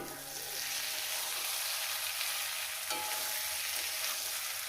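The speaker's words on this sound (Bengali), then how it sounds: "এরপর দিয়ে দেবো এখানে মাছগুলো দিয়ে দেবো" Dried fish (shutki) frying in a spiced masala on an outdoor riverside cookstove, a steady broadband sizzle holding at even loudness throughout, with a faint clink partway through and no talking.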